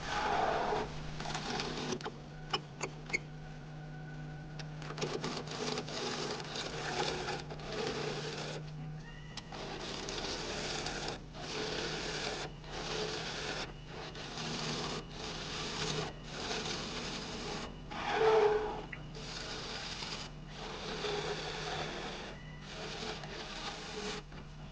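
Elm pen blank spinning square on a wood lathe, driven by friction and tailstock pressure, giving a steady dry rubbing and rasping hum with rhythmic surges and a low motor drone throughout.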